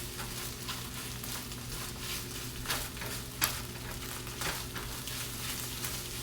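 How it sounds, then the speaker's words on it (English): Eggs frying in a pan give a steady, close sizzle with a few soft scraping touches, and no one speaks. "I'm sure you've cooked eggs before."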